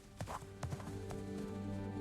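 Horse hooves clip-clop in a few crisp, close knocks over a bright, steady backing tune from a children's alphabet song.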